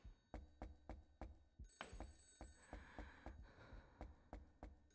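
An old-style telephone rings in the horror game Aooni, a run of sharp, evenly spaced rings with a brief swelling chime partway through, fairly close and alone.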